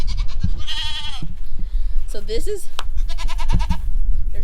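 Goats, including mini Nubians, bleat loudly and close by in a farmyard, several wavering calls in succession, with a person speaking briefly among them.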